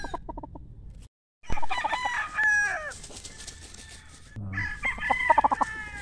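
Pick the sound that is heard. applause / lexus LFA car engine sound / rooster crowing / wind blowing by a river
rooster crowing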